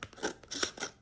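Scissors trim a paper die cut, a quick run of three or four close crunchy snips in rapid succession.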